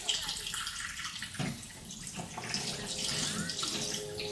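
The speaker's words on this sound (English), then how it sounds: "we're just rinsing them under cold water to like shock them or stop them from cooking" Green beans rinsed under a cold running kitchen tap, a steady close splashing water noise that holds throughout at an even level.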